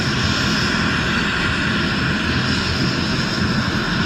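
State trooper helicopter flying near Bell Rock, a continuous loud engine and rotor drone holding steady throughout, fairly close, with no talk.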